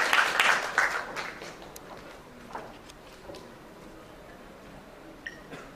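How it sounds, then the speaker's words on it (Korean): Audience at a Korean venture business forum bursts into applause to welcome a lecturer, a dense clatter of clapping right at the start that quickly thins and fades to scattered claps and room noise. "큰 박수로 맞이해주시기 바랍니다."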